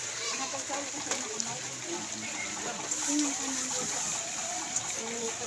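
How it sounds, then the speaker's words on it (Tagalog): Heavy rain falling and splashing, a continuous close hiss of water with scattered drips and splatters, steady in level with faint voices in the background. "So sobrang ulan ha."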